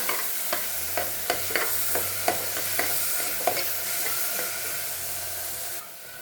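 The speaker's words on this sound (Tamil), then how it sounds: "முந்திரி அப்புறம் பாதாம் நெய்யில் வறுத்து சேர்த்துட்டு நல்லா கலந்து விடுங்க" Carrot halwa stirred in a pan after ghee-roasted cashews and almonds are added: rhythmic scraping strokes, about one per half second, over a constant soft sizzle of frying, close up with no voice.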